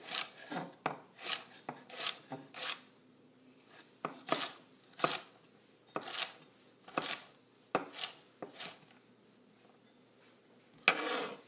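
A knife rocks through carrot, celery and onion on a cutting board, a close, evenly paced series of crisp chopping strokes, each a sharp tap followed by a short scrape, with no talking.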